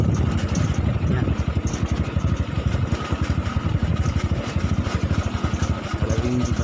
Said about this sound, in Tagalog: Pero kawawa din yung engine ng motor natin.